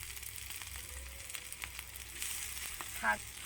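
Small batches of rice and potato snacks fry on a large tawa, making a quiet, steady crackle and sizzle with a few soft clicks of a spatula toward the end.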